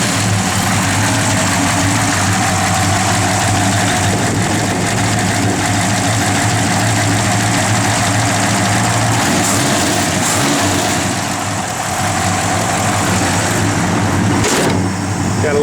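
1970 Plymouth Road Runner with a Hemi V8 engine idling steadily, a loud, continuous low rumble close by with no talk, plus a few faint clicks and knocks near the end.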